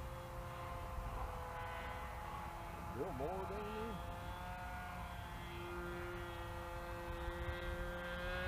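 A flying lawnmower model aircraft drones steadily in flight at a distance, a continuous engine hum with a brief pitch wobble midway, while people talk faintly in the background.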